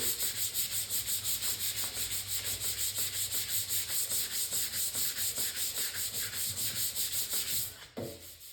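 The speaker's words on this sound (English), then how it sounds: "just take the extra couple minutes and sand it down a little bit better" Continuous back-and-forth sanding of body filler on Harley Davidson motorcycle parts during bodywork, a steady rhythmic abrasive rubbing close by that stops abruptly near the end.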